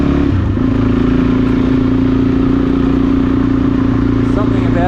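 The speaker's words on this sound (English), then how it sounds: "Something about listening to an engine." An engine idles steadily out in quiet bushland with a constant, even drone at close range, holding the same pitch throughout.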